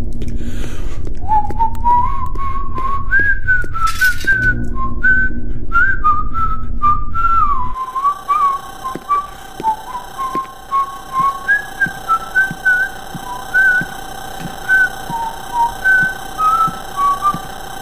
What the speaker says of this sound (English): I can do a better job whistling.